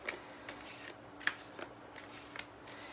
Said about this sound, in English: when you shuffle and pull the cards with your thumb from the bottom